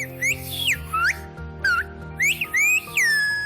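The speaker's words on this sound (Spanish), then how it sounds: "volvamos al más primitivo sonido, a este silbo que cruza barrancos" Silbo Gomero, the whistled language of La Gomera, carried across ravines: a series of sharp, sliding high whistles in short bursts with pauses, over a faint sustained musical drone.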